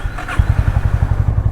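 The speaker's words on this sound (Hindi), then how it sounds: "बाइक मैंने सुबह ही वार्म अप कर ली थी, सुबह उठ के। बस अब स्टार्ट करनी है और निकलना है।" A Honda Highness motorcycle engine starts at dawn after being warmed up earlier, a brief crank giving way to a close, loud, steady thumping idle with an even rapid beat; no talking.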